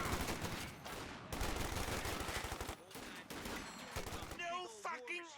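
Machine-gun bursts and scattered gunfire ring out in a Company of Heroes 2 battle, with dense rapid reports up close that break off and are followed by a short tail of other game sounds.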